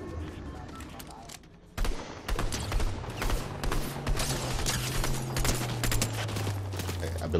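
Gunfire in the video game Squad: after a brief lull, a dense, sustained burst of rapid shots with sharp cracks and rumbling booms, heard over a low engine-like drone.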